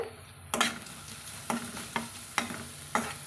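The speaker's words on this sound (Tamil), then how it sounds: "சேர்த்துட்டு நல்லா கலந்து விட்டுக்கலாங்க" Ivy gourd stir-fry with chili powder stirred in a pan: a constant frying sizzle broken by five or six sharp spatula strikes against the pan at a regular, unhurried pace.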